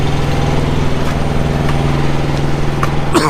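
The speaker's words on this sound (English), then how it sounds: "That's a horrible APU sound, isn't it?" A truck's auxiliary power unit runs steadily with a rough, droning hum and a constant low rattle, close and loud with no gaps, alone without talk.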